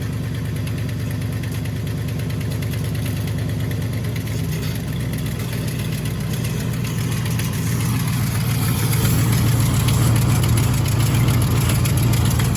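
A 1955 Buick engine idles steadily beside a new aftermarket radiator fan, a continuous low rumbling drone with a whooshing fan layer, the engine note thickening and growing slightly louder near the end; no one speaks.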